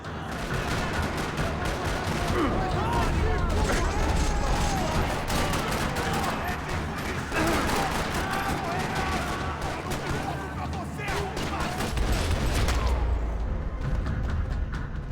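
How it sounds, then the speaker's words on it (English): Dense, continuous gunfire in a parking lot in the video game Max Payne 3, rapid bursts and booming shots layered without pause, loud and chaotic, with voices mixed in. "Another parking lot rattling with gunfire."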